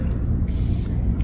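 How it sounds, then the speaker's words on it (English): Leather fragrance sprayed onto a hand, a steady close hiss of atomized spray that lasts about a second over a low room rumble. "Spray the hand."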